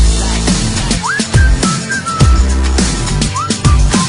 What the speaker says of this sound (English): I just whistled at her like